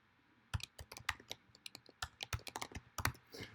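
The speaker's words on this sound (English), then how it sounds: "If I could type." Fingers type on a computer keyboard in quick irregular bursts of close, crisp key clicks, with short pauses between runs.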